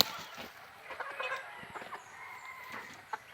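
Faint scattered clucking from a flock of chickens in the distance, soft and irregular, with brief sharp calls rising now and then.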